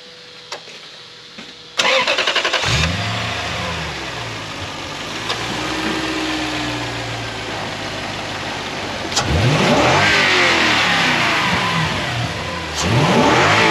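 A Toyota 1UZ/3UZ V8 cranks and fires up, then revs repeatedly in rising and falling sweeps between steady idle stretches, loud and close.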